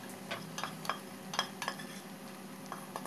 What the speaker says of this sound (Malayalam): വേവിച്ച പരിപ്പ് ഈ പാനിലേക്ക് ഇട്ട് കൊടുക്കാം